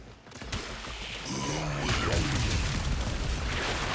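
A Warframe explosion during a solo Steel Path mission against Corpus enemies: a dense, loud boom and crash that swells after the first second and roars on through layered game effects and whooshes.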